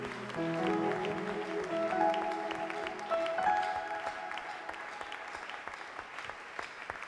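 A church congregation applauds and acclaims Jesus during a worship service, producing dense, sustained clapping throughout over a held musical backing that fades toward the end.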